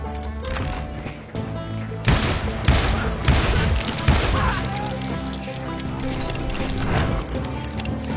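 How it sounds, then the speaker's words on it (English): A volley of gunfire from many hired guns rings out in a game scene, with dense overlapping shots and booming bursts that rise and fall over several seconds, loud and near with no speech. "Sounds like Garrett hired a whole regiment of hired guns."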